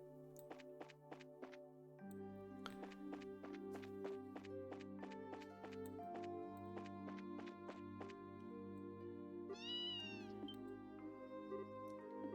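A cat meows over the background music in the video game Trails in the Sky SC, with a clear, moderately loud meow standing out near the end.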